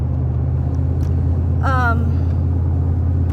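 A vehicle rumbles steadily close by, with a low engine drone throughout and a brief rising whine or squeal in the middle.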